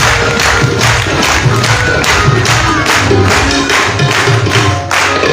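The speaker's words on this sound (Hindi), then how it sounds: "एक दफा भरपूर तालियां बजाइए।" A Catholic church congregation in Abbottabad claps and cheers in loud rhythmic bursts, with crowd voices mixed into the clapping.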